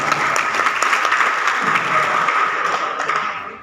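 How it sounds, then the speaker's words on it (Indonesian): Seminar audience at a pencak silat rules briefing in West Jakarta bursts into applause, a dense, lively clatter of many hands that holds steady for a few seconds and then fades out. "Tepuk tangan buat kita semua."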